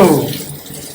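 Water runs briefly from a tap or is poured while a child is being bathed, a loud close splash that fades within a second.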